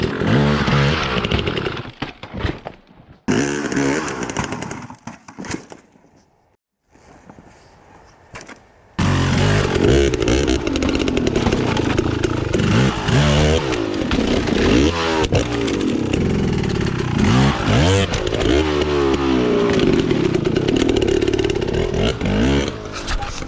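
A dirt bike engine revs hard in sharp bursts on an off-road trail while hopping logs, loud and close, with a short quieter gap before continuous aggressive revving and blips return.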